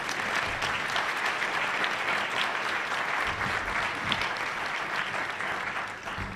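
A luncheon audience gives loud, sustained applause, a dense wash of clapping from many hands that stays even throughout, with faint low murmurs underneath.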